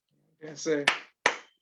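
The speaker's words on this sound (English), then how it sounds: "And she's clapping." A woman claps twice, sharp and close, in a quiet room, right after a short spoken reply.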